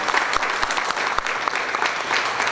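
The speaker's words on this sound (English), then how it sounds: "So definitely a big round of applause." Steady applause from a crowd at an employer awards event in Southwest Florida, dense clapping filling the whole stretch with no voices standing out.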